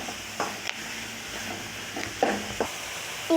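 Tomatoes sauté in a pan for egg curry while a spoon stirs them, giving a low continuous sizzle broken by several scraping strokes and a few light clinks of the utensil against the pan.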